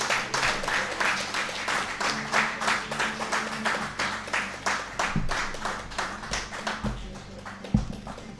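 An audience at a Jamaican track and field coaches' awards ceremony claps in a thin, rhythmic pattern, individual claps falling into a near-unison beat at moderate distance, with a few louder knocks toward the end.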